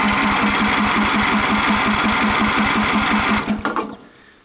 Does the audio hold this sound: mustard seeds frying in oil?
no